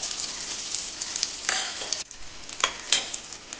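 Fennel seeds, small cinnamon pieces, a cardamom pod and cloves sizzle in hot oil in a pan, crackling close and steady with a few sharper bursts as they are stirred.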